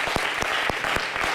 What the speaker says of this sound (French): Vous applaudissez juste à ce qu'elle arrive